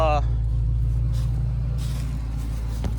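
A 1969 Buick Special Deluxe's engine idles smoothly with a steady low rumble, close and even throughout, with a brief faint click near the end and no voices.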